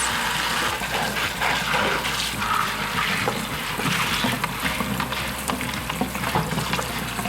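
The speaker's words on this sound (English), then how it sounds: "Washing the tomatoes." Tomatoes rinsed under running tap water while making breakfast, a steady close gush with splashing and irregular trickles as the stream hits the fruit, sustained throughout.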